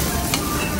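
Okonomiyaki frying on a hot griddle at a restaurant in Akihabara, Tokyo, giving a steady close broadband sizzle with faint stirring or scraping and no talk.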